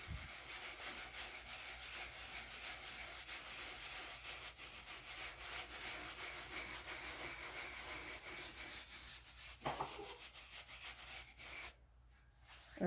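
Conditioner rubbed into a leather Bible or travelers notebook cover with light circular motions, a soft continuous close rubbing hiss that stops abruptly near the end.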